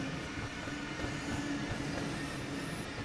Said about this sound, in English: The Class 411 is part of the ICET family, with the letter T referring to its tilting capability.